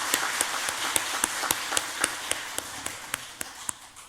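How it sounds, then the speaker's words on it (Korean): A Korean church congregation claps for the children's choir, sharp rhythmic unison claps in a steady beat over a wash of looser applause, no talk. "우리 어린 친구들을 위해서 다시 한번 뜨겁게 박수 한번 하십시다."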